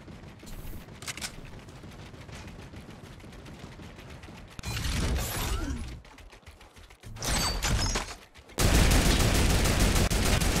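A turret fires in Fortnite in several loud mechanical bursts separated by quieter stretches of clanking and whirring, the final burst continuous and dense.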